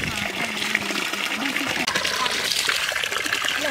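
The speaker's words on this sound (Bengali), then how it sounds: "এখন ধুয়ে নেব।" Running water gushes steadily while food is washed in a home kitchen during curry preparation, a continuous close splashing flow with faint voice underneath.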